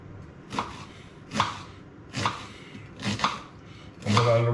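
A knife slices an onion lengthwise for a vegetable stir fry, five evenly spaced chops striking the board close by, with a brief voice beginning at the end.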